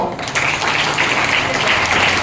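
Audience of students and faculty applauding at a school computer lab opening, a sustained even wash of clapping that swells in after a brief quieter start and stays loud throughout.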